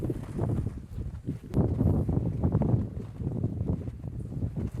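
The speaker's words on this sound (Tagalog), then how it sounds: "Ganyan siya kahangin" Gusty wind buffets the microphone at a hilltop campsite on Mt. Calibungan in Zambales, a steady low rumble that swells and eases across the few seconds with no clear voices.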